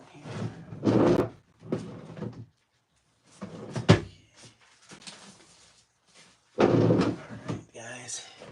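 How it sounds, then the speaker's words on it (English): A bedroom or studio drawer at floor level is pulled open and pushed shut, giving a few close wooden knocks and slides scattered among bursts of nearby talk. "In my drawer down here."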